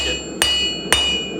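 Hammer striking metal stock to texture a custom bar footrest, three sharp ringing metallic blows spaced about half a second apart, close and clear.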